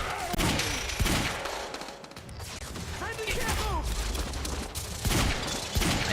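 Bursts of gunfire in the video game Quantum Break, loud and repeated in clusters over game music and effects, with a player talking over it.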